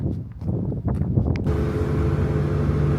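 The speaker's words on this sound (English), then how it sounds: "It's really, really windy here." Strong wind buffets an unmuffled microphone outdoors in Spain, a loud rumbling roar that gusts unevenly, then settles into a constant heavy blast with no voices.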